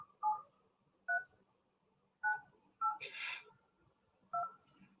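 Telephone keypad dialing tones played over a speakerphone during a prospect call: six distinct DTMF beeps in an irregular rhythm, each short and clear, with a brief noisy burst in the middle and no talking.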